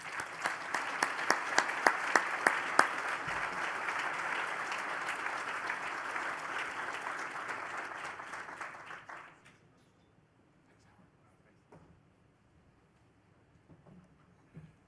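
An audience at an award event applauds Howard Milstein onto the stage with steady, full clapping for about nine seconds, which then dies away into a quiet room with faint shuffling.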